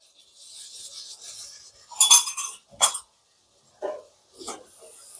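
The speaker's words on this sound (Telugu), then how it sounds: "ఇప్పుడు అందులో ఒక టూ నుంచి టూ అండ్ హాఫ్ స్పూన్స్ పెరుగు వేసుకొని బాగా కలుపుకుందాం" A spoon stirs curd into a baby potato curry in a pan, giving light scraping and a few sharp metallic clinks against the metal, close and intermittent with short quiet gaps.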